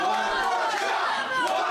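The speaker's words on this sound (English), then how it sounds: "the crowd calling for one more" A wrestling crowd at a live independent show in Concord, New Hampshire chants and roars in a dense, continuous wall of voices, loud and close throughout.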